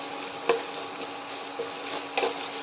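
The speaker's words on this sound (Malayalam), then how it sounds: "നല്ലപോലെ വഴറ്റി കൊടുക്കുക." Julienned ginger sautés in a pan for watermelon rind pickle, a quiet continuous sizzle broken by a few soft scrapes and taps of stirring.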